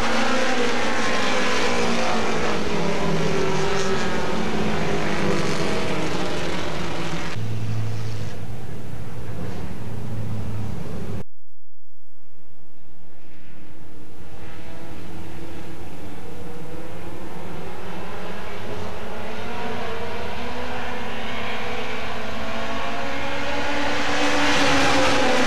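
Mini stock race cars run side by side around a speedway oval, their engines a loud continuous roar that swells and fades through the full length, with a brief dropout near the middle.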